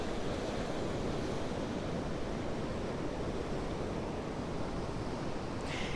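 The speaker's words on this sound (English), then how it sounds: "You said you can hear the waves." Ocean surf rolls onto a beach with rock pools and an ocean pool at daybreak, a steady, dense wash of breaking waves that stays loud and continuous throughout, with no voices.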